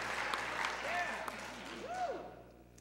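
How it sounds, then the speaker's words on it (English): A concert-hall audience at a barbershop chorus spring show applauds in a dense, steady wash of clapping, with a couple of rising whistles cutting through near the middle and end. "So sometimes people clap,"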